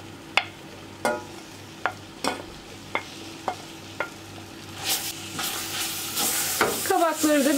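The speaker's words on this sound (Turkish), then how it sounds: "Kavrulan unun içerisine rendelediğim kabakları ekliyorum." Grated zucchini goes into flour roasting in a pan: a run of sharp, evenly spaced spoon taps and scrapes, then a broad, steady sizzle that rises and lingers toward the end, close and fairly loud, with no talking.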